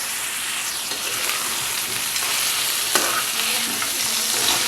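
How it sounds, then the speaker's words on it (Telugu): Cleaned crabs frying with salt and turmeric in a pan for crab curry, a loud continuous sizzle with occasional stirring scrapes up close, no talk. "ఇప్పుడు దీనిలో క్లీన్ చేసి ఉంచిన ఈ పీతలను వేసారు దీనిలోనే టేస్ట్కి సరిపోయే ఉప్పు ఇంకా పసుపు వేసి కలుపుకుంటాం"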